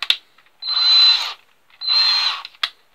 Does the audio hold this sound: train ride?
no